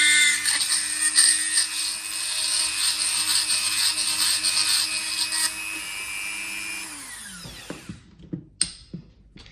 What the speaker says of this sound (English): we're going to drill a hole into the center of it using our drill